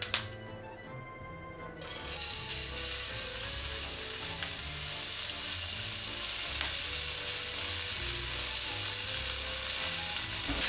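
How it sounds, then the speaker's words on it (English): Bacon dropped into a hot pan for coq au vin, with a brief clatter at the start before a loud, continuous sizzle and spatter that holds steady and close to the end. "into the pan we're going with our bacon"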